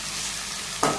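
Onions sizzle steadily in a hot pan while being stirred, with a brief louder scrape of the spoon near the end. The sound is close and continuous, with no talking.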